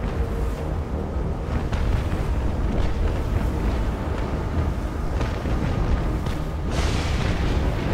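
Ship cannons firing in a sea battle, a continuous rumbling barrage of distant booms and bursts with a few sharper blasts standing out, steady and moderately loud, with no speech.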